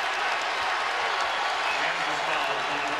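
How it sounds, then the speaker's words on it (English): A basketball arena crowd at a college game, Kansas at West Virginia, cheers and roars in a dense, continuous wash of noise, loud and sustained throughout. "Oh, the crowd really feeling it now."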